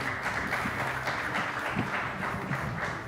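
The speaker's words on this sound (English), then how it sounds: "Big round of applause." Steady applause from a conference audience at a business conclave, dense and continuous for about three seconds with no speech over it.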